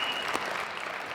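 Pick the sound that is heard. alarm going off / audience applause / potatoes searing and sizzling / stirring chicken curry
audience applause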